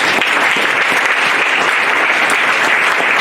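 A church congregation applauds loudly and steadily for a few seconds, a dense continuous clapping from many hands with no voices standing out.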